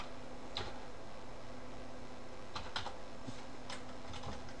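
Typing on a computer keyboard, a handful of light scattered key clicks over a steady low hum of a computer fan, fairly quiet and without talk.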